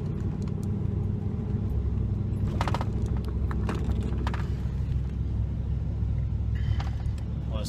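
A car cruising along a road on a Sunday drive gives a steady, close engine and road rumble throughout, with a few brief higher clicks and rattles from inside the cabin and no talking.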